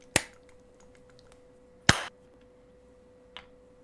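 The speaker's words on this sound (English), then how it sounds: "slow clap" Three slow, widely spaced hand claps ring out sharply in a quiet room over a faint steady hum, the last one noticeably softer than the first two.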